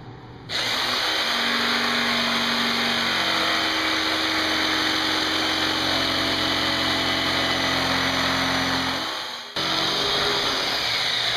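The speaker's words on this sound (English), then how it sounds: "Just going to cut that with the jigsaw." A jigsaw cuts a wood template for a pedestal extension table form, a loud, close, continuous buzzing whine that runs for about nine seconds, briefly stops, then starts again.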